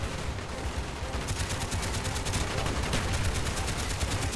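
Sustained automatic gunfire in Call of Duty: Black Ops, a dense, rapid stream of close shots rattling continuously throughout with no gaps.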